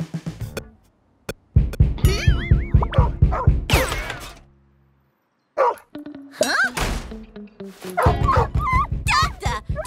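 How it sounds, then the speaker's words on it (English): A cartoon cat barks like a dog: loud, rapid barking in repeated bursts, with a pause in the middle before another run of barks, plus some high yips and squeaky whines. "A barking cat!"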